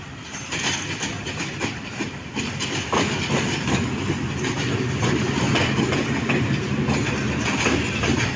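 The Awam Express passenger train with an old rake rolls into Gujrat railway station in Pakistan, steady clickety-clack of wheels over rail joints and a continuous rumble of carriages close by, growing slightly louder, with no talk.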